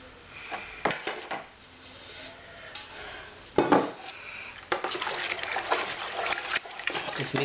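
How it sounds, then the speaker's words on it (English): A spoon stirs malt extract into a home brewing pot, giving irregular metallic scrapes, knocks and clinks with soft liquid sloshing, close by and fairly quiet. "Stir him up a bit, mate. Try to get rid of any lumps"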